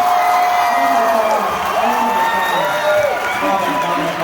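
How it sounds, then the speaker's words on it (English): An audience in a performance venue bursts into loud applause with cheering and whoops, a dense sustained roar of many people throughout. "So can I just hear just a test applause?"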